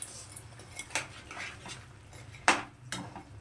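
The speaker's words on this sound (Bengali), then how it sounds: "তো একটু ঝোলের সঙ্গে এটা খুব ভালো করে মিশিয়ে দেব।" A spoon stirs fried fish pieces into simmering curry gravy in a metal pan, giving a series of sharp clinks and scrapes at irregular intervals, close up over a quiet background.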